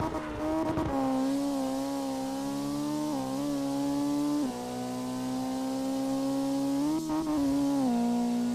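A drift car engine in the video game CarX Drift Racing Online revs high and holds a steady whine, dipping and rising a few times as it shifts, loud and continuous with no talking.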